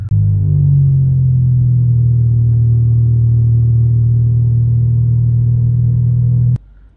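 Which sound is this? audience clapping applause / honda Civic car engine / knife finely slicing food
honda Civic car engine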